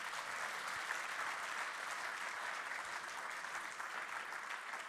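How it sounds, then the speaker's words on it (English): An audience applauds steadily at an Austrian Ecolabel and EU Ecolabel award presentation for hotels, the dense clapping fairly faint and distant in the hall, with no talk over it. "Applause."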